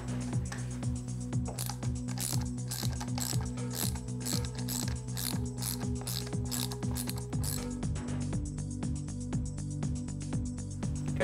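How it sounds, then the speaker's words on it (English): Steady rapid ratchet clicking as a hand tool undoes the propeller nut on a Yamaha outboard motor, close and continuous with a brief change in pitch partway through, no talking. "undo the propeller nut"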